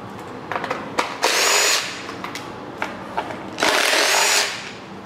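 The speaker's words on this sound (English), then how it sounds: "We're just gonna grab our 8 millimeter and undo the bolts." Power driver spinning out fuel rail bolts on an LS V8 (5.3L LM7) engine teardown: two sustained loud whirring bursts separated by clicks and small knocks, close and without talk.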